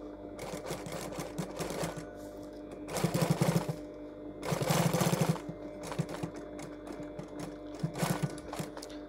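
Sewing machine stitching a zipper seam on a pair of trousers, a steady close mechanical whir with several louder, faster bursts as the seam is sewn slowly, with no talking.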